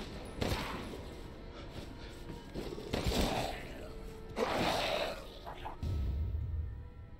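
Gunfire in the Resident Evil Village demo, a few sharp shots spaced out across the stretch over a loud, busy game background.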